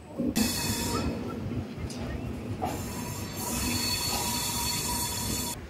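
Train 22630 Dadar Superfast Express pulling out of Coimbatore station, heard from on board as a steady rumble of rolling wheels with squealing and rattling carriages throughout.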